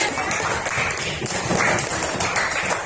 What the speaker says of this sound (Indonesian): tepuk tangan dulu buat Ani.